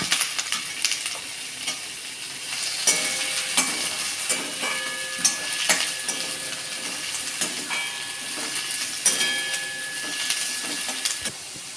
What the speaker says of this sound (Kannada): ಇದನ್ನು ಫ್ರೈ ಮಾಡುವ.